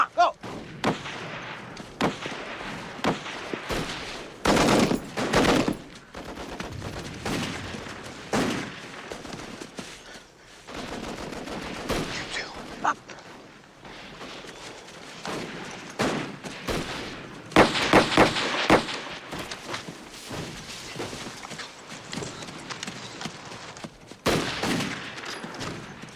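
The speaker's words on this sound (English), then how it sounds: "flank those machine guns and take them out" Machine-gun fire and gunshots crackle through a war-film battle, with dense bursts and heavy thumps recurring across the whole stretch, loud and close, while occasional voices shout under the barrage.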